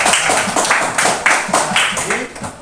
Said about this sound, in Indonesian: tepuk tangan buat Ika dan Ocha.